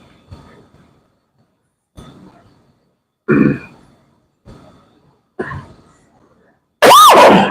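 Scattered coughs and throat clearing from one person, some faint and some sharp, separated by silence and ending in a loud, strained, voiced cough.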